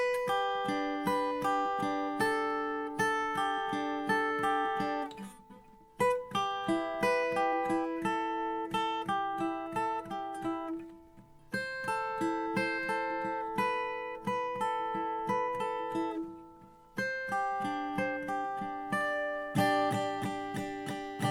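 A guitar picks out the melody of a song, with clear, ringing plucked notes in even phrases separated by short pauses. The playing sounds close and no one talks.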